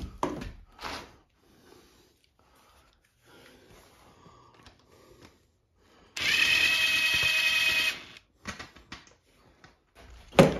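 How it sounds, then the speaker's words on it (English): A power driver backs screws out of the top edge of a collapsible rear awning on a cargo camper trailer, with a steady whirring burst of about two seconds between scattered knocks and handling clatter. "Here I'm removing those screws that hook on the top edge."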